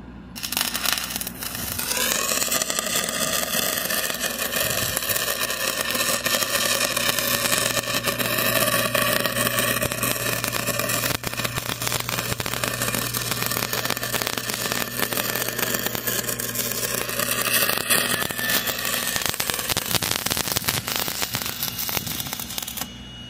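Engine-driven welding machine revving up to high idle, then holding a loud, steady droning hum with a faint crackly texture throughout.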